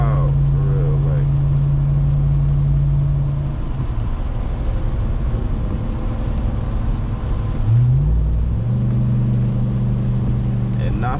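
A Ram TRX pickup truck driving in heavy rain, a steady loud road and engine rumble with droning tones that shift in pitch, constant throughout.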